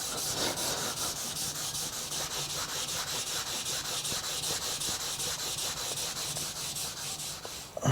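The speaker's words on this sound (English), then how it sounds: "just a final rub over on this Scotch-Brite pad now" A Suzuki GS motorcycle part being rubbed back and forth on a Scotch-Brite pad makes a loud, continuous scratchy hiss with a fast, even stroke rhythm, close up.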